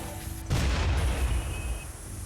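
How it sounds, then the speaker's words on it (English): A Rimworld explosion goes off at a tribal settlement in a cold bog: a sudden broadband boom at about half a second, followed by a sustained loud rumble that slowly fades. "How much damage does this thing take from the explosion?"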